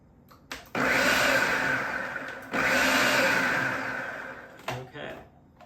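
A blender whirs loudly and close through a dry mix of brown sugar, salt and baking powder, in two sustained bursts with a short break between them, then winds down near the end.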